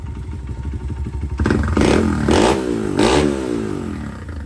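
A Honda XR100 dirt bike engine idles, then revs up loudly in three sharp bursts before settling back, close by and with no voices over it.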